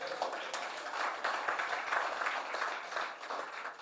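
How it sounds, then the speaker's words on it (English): Audience applause at the opening ceremony of the 2022 Jamaica Diaspora Conference, a soft, steady wash of many hands clapping that holds evenly for a few seconds in a large hall. "You can give me a round of applause, you know."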